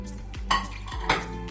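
Potatoes, onions and green chillies tipped into a cooking pot for a potato prawn curry, giving two distinct clattering knocks of food and metal against the pot, close and fairly loud, with no talk.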